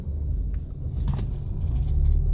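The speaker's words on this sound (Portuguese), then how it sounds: "A Deus abençoar que esse caminhão passa aí, ó." Truck passing on a paved highway in Minas Gerais (MG-202/402) near a stopped vehicle, a steady low rumble that swells slightly toward the end, no talking.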